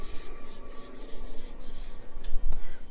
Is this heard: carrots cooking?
no